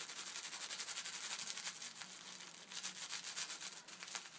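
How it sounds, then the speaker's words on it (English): Craft foil rubbed by hand onto tacky glue on fabric over a stamped flower, making a steady, close scratchy swishing of quick repeated strokes that runs throughout. "simply rub the foil on the glue with the color side up and peel away"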